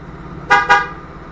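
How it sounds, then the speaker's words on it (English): A 2018 Mustang GT gives a double beep as its door shuts and locks, two short, bright, horn-like chirps close together, loud and close, with nothing else over a quiet background. "I get the double beep."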